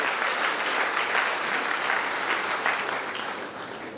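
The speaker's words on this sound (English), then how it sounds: "Can we please hear a very big round of applause for all these students who come from there?" Steady, dense applause from an audience at a school annual concert greets students, a continuous wash of many hands clapping at even loudness, easing slightly toward the end.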